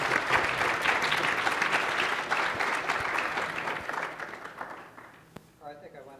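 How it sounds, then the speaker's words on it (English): An audience at a panel discussion on preparing California for the 2020 Census applauds the panelists. The dense clapping is fairly loud at first, then gradually thins and fades to near silence. "please give a warm round of applause to our panelists here"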